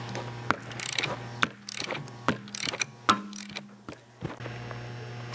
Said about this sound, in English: Make sure everything is lined up and then start to remove the spring compressor.